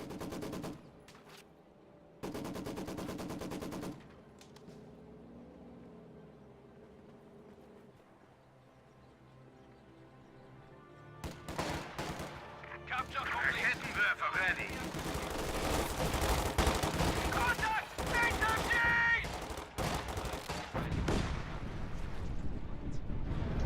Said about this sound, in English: Ostwind is firing at the units in this house.